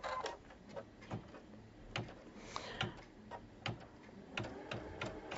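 A Brother Capsule 5 sewing machine stitches a buttonhole, giving a quiet run of rapid, irregular ticks and clicks close by, with no talking.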